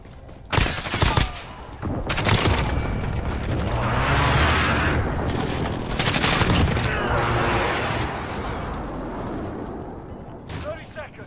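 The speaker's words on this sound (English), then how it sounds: "Be advised, friendly precision airstrike inbound." Precision airstrike explosions and gunfire in Call of Duty Modern Warfare, with a burst of sharp shots followed by long rolling booms that rumble for several seconds, loud and close, trailing into scattered fainter shots.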